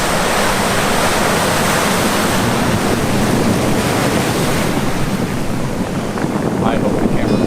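Ocean waves break continuously on a Baja beach, a loud, steady wash of surf with wind rushing across the microphone and no pauses between the rolling swells.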